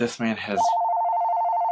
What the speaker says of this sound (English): And now his phone's ringing.